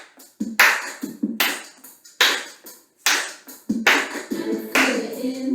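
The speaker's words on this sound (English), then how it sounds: "Can you clap it out?" Sharp handclaps or snaps from people clapping along at an opening-day event, loud and near, coming in uneven bursts of strikes separated by short silences, with no talk over them.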